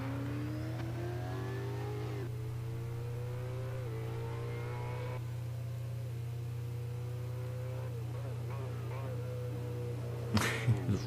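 Racing car engine in Assetto Corsa revving through gears, with repeated rising pitch sweeps broken by quick shift drops, over a steady low hum, and a short burst of noise near the end.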